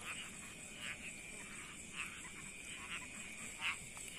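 A frog croaks in a rice paddy during eel fishing, giving short calls about once a second at moderate distance over a steady insect-like drone.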